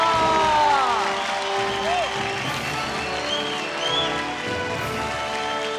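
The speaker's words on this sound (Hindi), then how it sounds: "तालियां।" Steady audience clapping fills a televised singing-competition stage during an award moment, a dense patter sitting under sustained music tones and a voice.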